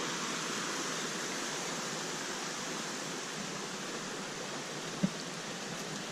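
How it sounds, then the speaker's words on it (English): Water flows in a stream along the Appalachian Trail near the Connecticut section, heard as a steady, even rushing wash with no voices. "Way back there you can see some water flowing too."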